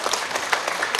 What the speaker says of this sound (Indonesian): Tepuk tangan untuk MKJ.